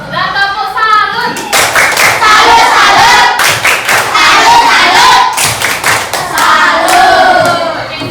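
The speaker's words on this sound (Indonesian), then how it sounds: "Dan tepuk salut." A classroom full of children applauds together, loud and close, with dense sustained clapping broken by short rhythmic bursts and children's voices mixed in throughout.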